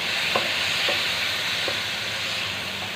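Adobong sitaw being stirred in a pan after soy sauce and vinegar go in, a steady loud sizzle with a few soft scraping strokes spaced through it and no talking.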